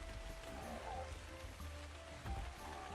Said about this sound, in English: Oh, sweet, it's raining too